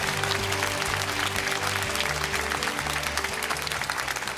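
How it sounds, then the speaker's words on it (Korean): Studio audience applauding at a televised public deliberation forum, steady sustained clapping from a large crowd throughout, loud and continuous with no talk over it. "박수 한번 주시죠."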